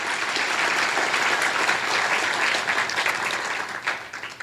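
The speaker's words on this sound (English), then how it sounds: "We would just like to give one big round of applause to our sponsors and vendors for all their support." An audience at a hospital caterers' event gives a big round of applause for sponsors and vendors, dense sustained clapping from many hands filling the room before easing near the end.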